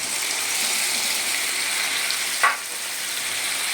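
Pork sizzling steadily in a pan with shrimp paste and onion, a loud continuous frying hiss with one brief sharper crackle or stir partway through.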